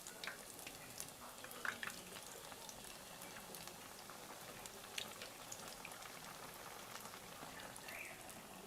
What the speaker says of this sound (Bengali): উল্টে পাল্টে গোল্ডেন ব্রাউন করে কিন্তু এটাকে ভেজে নিতে হবে